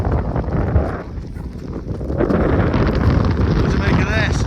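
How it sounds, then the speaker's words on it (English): Blustery wind on Pen y Fan, a Welsh mountain summit in wet weather, roars and buffets steadily across the microphone as a loud continuous rumble, swelling stronger in the second half, with a faint voice underneath. "A bit windy, a bit wet, but definitely worth it."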